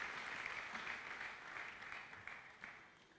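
Church congregation applauding together in a sustained, fairly distant wash of clapping that holds steady for a few seconds.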